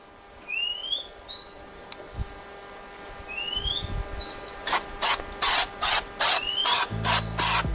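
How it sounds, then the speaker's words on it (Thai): Several short hissing bursts of spray adhesive from an aerosol can, coated onto a rubber-band airplane wing, coming in a quick rhythmic series after birds chirp in the background. "หลังจากนั้นนะครับผมก็จะใช้สเปรย์กาวนะครับ ในการฉีด"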